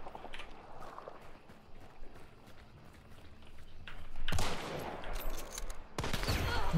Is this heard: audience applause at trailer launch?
no